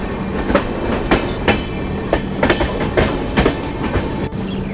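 Duronto Express running on rails near Khurda Road Junction in Odisha, heard from aboard: a steady rumbling roll with repeated clickety-clack wheel knocks over rail joints and a faint low hum throughout.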